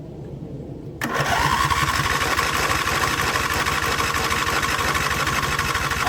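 A 25-year-old V-twin lawn tractor engine cranks and catches after a second of near quiet, then settles into a loud, steady, throbbing run with a rapid even pulse.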